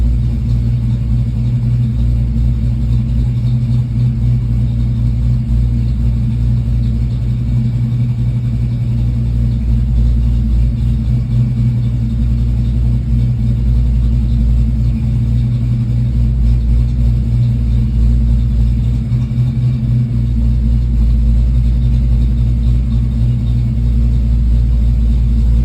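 A car engine idles and warms up at close range, a steady low rumble holding evenly throughout with slight swells but no sharp revs.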